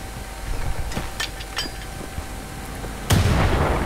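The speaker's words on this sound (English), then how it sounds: "I just wasted my only grenade." A grenade goes off in the first-person shooter Wolfenstein: The New Order, a sudden loud boom near the end after scattered smaller gunfire-like pops and game ambience.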